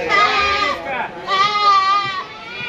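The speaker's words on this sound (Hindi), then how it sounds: "दोनों बकरे अच्छे हैं" Goats bleat repeatedly at the Deonar goat market in Mumbai, with long wavering cries close by, overlapping one another in two main bursts.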